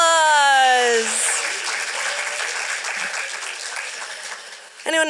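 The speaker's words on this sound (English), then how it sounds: "Let's give them a round of applause" A voice trails off, then a theatre audience at a young playwrights' festival reading breaks into sustained applause that fades gradually toward the end.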